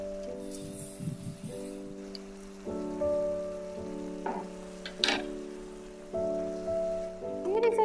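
Chicken malai curry masala fries in a pan with a steady crackling sizzle and occasional stirring scrapes, all set beneath sustained background music tones.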